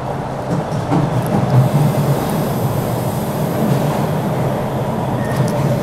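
A subway train heading toward Park Street rumbles steadily, with a continuous low roar and rattling wheel noise heard from on board. No one speaks.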